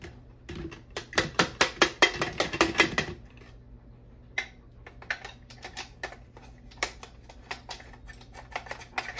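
A coffee grinder being knocked to free oily bean grounds stuck inside: a rapid burst of hard taps, a short pause, then scattered lighter knocks, close and dry.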